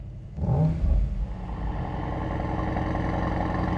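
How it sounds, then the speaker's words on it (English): A Mercedes-AMG GT 55 coupe's V8 fires up with a sharp bark and a quick rev flare, then settles into a steady, rumbling idle, close and loud. "the reason for ownership, which is the V8 engine"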